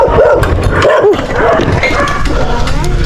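A large dog barks and yelps several times close by outdoors, with an engine running steadily underneath.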